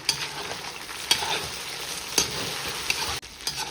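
Chicken and onions fry for plov in a pan, a steady close sizzle broken by several sharp scrapes and clicks of a stirring utensil, with no voices.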